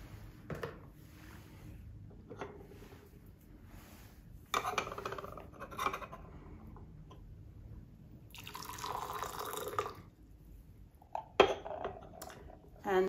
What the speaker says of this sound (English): I'm going to warm up my teaware and rinse it out a bit